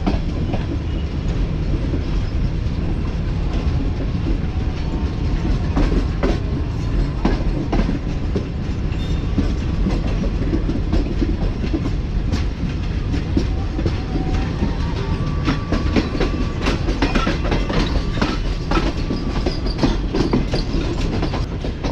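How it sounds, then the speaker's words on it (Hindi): Tezgam passenger train rolling along the railway track at restricted speed, a steady loud rumble of wheels with clickety-clack rail joints and occasional faint squeals throughout, with no voices. "रेस्ट्रिक्टेड स्पीड को फॉलो करते हुए आगे बढ़ रही है ट्रेन"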